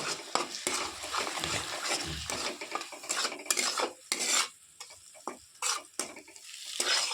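A spoon mixes a cracked egg and turmeric powder into a bowl, making quick, irregular scraping strokes and light clinks up close, with short pauses and no speech.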